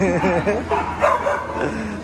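Barks and yips from a Great Dane at an indoor dog show in a mall, a few close, loud woofs mixed with the chatter of people talking nearby.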